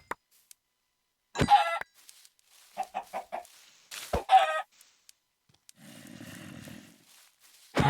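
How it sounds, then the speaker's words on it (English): Chickens cluck in the Minecraft video game, several short clucks coming in bursts with quiet gaps between them, close and fairly loud, along with a few other sharp game sounds. "Chickens."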